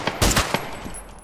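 A short, fast burst of gunfire comes from a video game, a few sharp rapid shots followed by a fading tail. The shots are moderately loud and heard alone.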